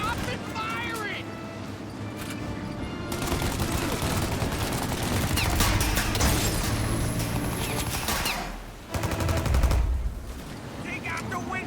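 Loud, dense gunfire in Mafia: Definitive Edition, with bursts of automatic fire and sharp shots during a car-chase firefight, heard under shouted dialogue from characters throughout.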